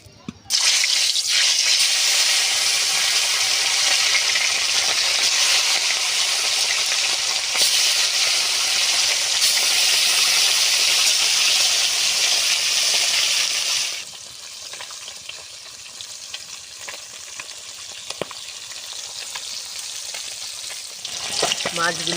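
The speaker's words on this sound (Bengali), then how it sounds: "মাছ ভাজার জন্য কড়াতে দিয়ে দেবো আমি সরষের তেল।" Fish sizzles loudly in hot mustard oil in a wok, a dense continuous crackle for about fourteen seconds that then drops to a quieter, steadier fry with occasional pops.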